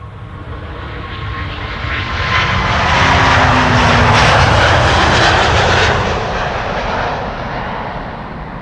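A Delta Airlines jet departing the Polderbaan runway at Amsterdam Schiphol Airport roars loudly and steadily, its engine noise swelling to a broad peak as it passes and then easing slightly, with no talk over it.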